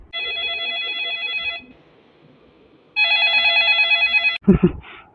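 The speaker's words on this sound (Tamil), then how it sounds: "ஃபோன் அடிக்குது நல்ல சகுனமாக தானே இருக்குது" A telephone rings with an electronic warbling bell in two long bursts separated by a pause, loud and close, followed by a brief voice right after the second ring.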